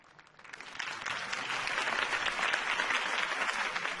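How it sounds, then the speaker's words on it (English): Crowd applause after a campaign speech in the Batman Telltale Series video game, rising quickly from a few claps into steady, dense clapping that holds to the end. "could have heard that applause"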